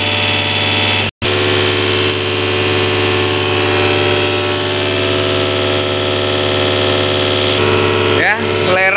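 A Panther 25 diesel injection pump runs on a test bench at 1100 RPM, a loud, steady mechanical whine and hum with a brief dropout near the start, while someone talks over it.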